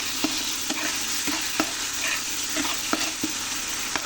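A spice paste for a pangas fish and Malabar spinach bhuna fries in a wok and is stirred. Clear scraping strokes come at an irregular, fairly quick pace over a constant close sizzle, with no talking.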